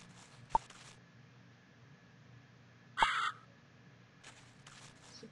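Crow caws from the video game Little Briar Rose: a short harsh caw, a louder drawn-out caw a few seconds later, and faint rustly clicks between them over a quiet background.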